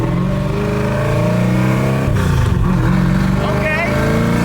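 A 1967 Mustang engine runs loud and close, revving through a custom manual shifter with rising and falling engine tones and a brief dip between gears, while a person talks over it.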